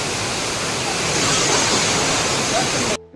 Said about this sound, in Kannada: ಜರಿ ಫಾಲ್ಸ್ ಮಾತ್ರ ಅದ್ಭುತವಾಗಿದೆ